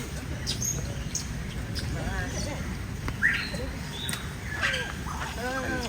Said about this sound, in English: This is the noisiest parrot lah.